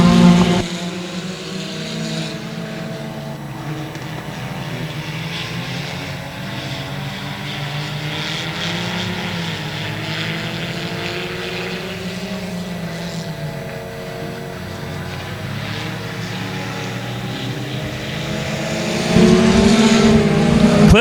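Race cars roar around a speedway oval track at the start of a race, their engine notes rising and falling as the pack passes. The sound is a sustained, fairly distant drone that swells louder near the end.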